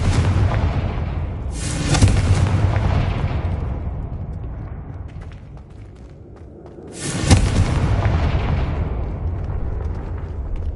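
Two loud magical explosions from the Confringo spell in Hogwarts Legacy, each a sharp booming blast followed by a long rumbling decay, spaced several seconds apart with no talking.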